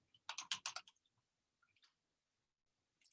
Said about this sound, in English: I keep typing his name wrong.